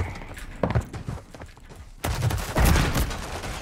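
Sniper rifle trick shot in a first-person shooter game: soft clatter and thuds of movement, then a sudden loud blast with a sustained, rumbling burst of game noise after it.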